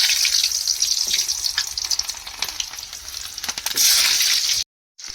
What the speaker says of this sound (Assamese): এতিয়া কেৰাহীত পিঁয়াজ দি দিওঁ।